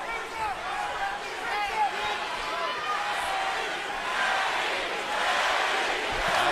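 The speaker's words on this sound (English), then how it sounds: "Now the crowd begins to chant Manny, Manny." Arena crowd at a Pacquiao vs Bradley boxing fight, a loud, steady roar of many voices with rhythmic chanting for Manny rising through it, filling the whole stretch.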